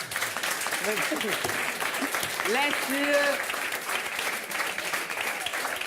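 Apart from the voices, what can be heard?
studio audience applauding Mehdi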